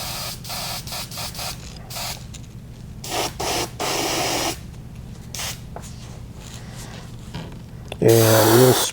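Airbrush hissing out pearlized white Createx paint across a scaled shad fishing lure, in steady bursts of spray with short pauses between them, close and fairly loud, with a brief louder burst near the end.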